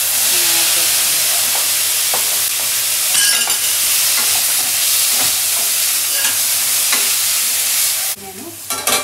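Onions fry in a pan with a loud, continuous sizzle and hiss, broken by spatula scrapes and stirring clatter, close and with almost no talk, ending in a short burst of clatter.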